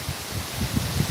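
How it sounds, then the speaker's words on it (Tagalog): Strong typhoon wind sweeps through Borongan during Typhoon Tino, a steady loud broadband roar with low gusting surges building toward the end, and no voices. "Palakas na ng palakas ang hangin."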